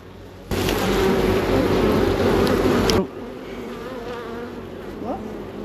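Honey bees swarm an open hive during a frame-by-frame inspection. A loud, dense, close buzzing fills a few seconds, then drops to a softer steady hum.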